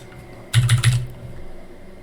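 Payment details are typed on a computer keyboard in a brief, close burst of a few quick key clicks, heard alone in a quiet room.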